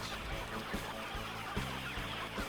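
Soft clucking of chickens close by, short low murmured calls repeating irregularly over a quiet background.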